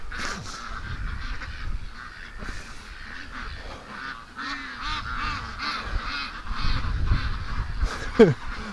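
A large flock of agitated domestic ducks quacking and honking together in a backyard at night, a continuous dense clamor that swells louder toward the end.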